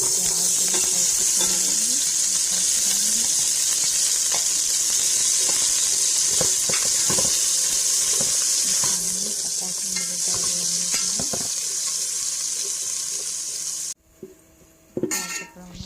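Oil sizzles and fries steadily in a cooking pot while biryani is prepared, with occasional metal clinks and stirring scrapes over the hiss, ending with a brief quieter stretch.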